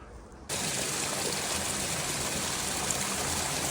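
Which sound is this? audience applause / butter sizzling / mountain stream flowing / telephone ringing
mountain stream flowing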